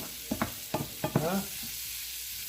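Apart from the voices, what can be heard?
stirring and sizzling ginisang snow peas with sotanghon in pan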